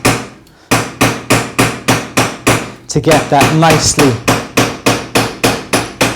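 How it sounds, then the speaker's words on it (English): A Delrin hammer strikes a metal bangle on a forming die in sharp, evenly spaced blows, about three per second, close and loud, with a short pause early on and someone speaking briefly midway. "you can address that now if you want to with your Delrin hammer"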